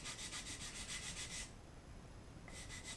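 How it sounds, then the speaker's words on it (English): Balsa wood rubbed against sandpaper glued to a wooden block, quick rhythmic rasping strokes up close, pausing for about a second before resuming, with no talk. "One of my most trusted tools when working with balsa is my piece of wood here with some sandpaper glued on."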